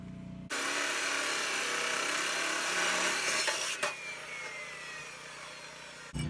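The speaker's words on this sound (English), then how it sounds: "So now we're going to cut 2 10-inch plates." Steel plate being cut for a tractor dozer blade on a Massey 50, a loud continuous grinding, rasping cut that starts abruptly, holds steady, then eases after a sharp clunk, close-up and with no speech.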